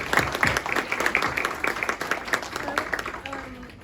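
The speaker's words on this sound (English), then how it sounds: "can we just give Merve a massive round of applause?" A crowd applauds steadily, dense clapping from many hands filling the room at full volume for the whole stretch.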